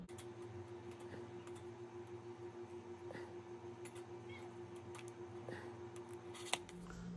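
Scissors snipping out parts from an Admiralty Models photo-etched brass plate for a model submarine, HMS Thorn, with quiet, sparse clicks and cuts close by over a faint steady hum.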